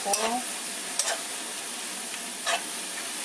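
Chopped spring onion drops into a hot frying pan of stir-fried aged kimchi for somen, giving a constant hissing sizzle broken by three brief stirring scrapes, close by, with no voices.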